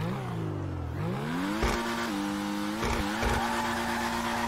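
Sports car engine in GTA Online, racing the Pariah against the Itali GTO, revving and accelerating with a rising pitch, then shifting and climbing again in steps, close and steady, no talk.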